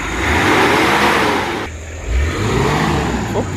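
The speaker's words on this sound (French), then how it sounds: "mon très cher ami va faire des petits rofles, enfin des petits coups d'accélérateur." The engine of an old Nissan Patrol is revved in short, loud throttle blips close by, rising and dipping over a few seconds.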